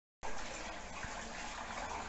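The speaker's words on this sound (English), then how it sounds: "This is the stone fish pond that we have constructed during this lockdown. This is the fountain aeration." Water pumped through a fountain splashes steadily into a stone fish pond, a continuous soft rushing and gurgling that starts abruptly and holds at an even, fairly faint level with no voices.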